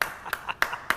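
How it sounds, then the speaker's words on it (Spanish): A few sharp hand claps in an irregular rhythm, close and fairly loud, during a televised interview setting. "Déjeme aplaudirle"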